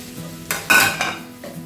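Finger-sliced chicken drops into a hot pan with a sudden burst of sizzling and a clatter of metal, followed by a shorter second hiss. Loud, close and over in under two seconds.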